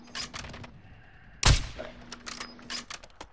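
Video game gunfire comes in scattered single shots and short bursts, fairly faint and distant, with one sharp louder crack near the middle.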